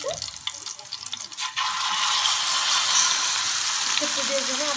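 Liver dropped into a pan with softened garlic, a loud, sustained hiss of frying that jumps up after some initial clattering and keeps sizzling evenly, close and bright.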